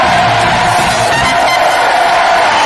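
A French TV studio audience claps and cheers loudly for Dorothée, a dense, continuous roar of applause with whoops and shouts that carries through the whole moment.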